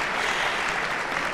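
A crowd at a castells event breaks into applause, a dense continuous clapping that stays steady and fairly loud throughout.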